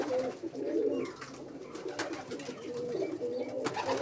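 A female pigeon cooing close by, repeated low throaty coos in a rolling rhythm with a few small clicks and rustles, no talk over it.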